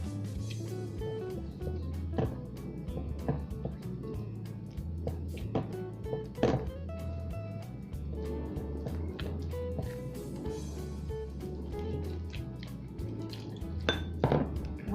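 Utensil stirring water into pumpkin and sweet potato fritter batter in a bowl, with repeated clinks and scrapes in a steady, busy rhythm, close and fairly quiet, no talk.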